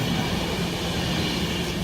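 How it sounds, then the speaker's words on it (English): A Virgin Trains Pendolino runs through a station at Tamworth, a close, steady rumble and rolling wheel noise that holds level for the short moment with no speech over it. "Virgin Train Pendolino there."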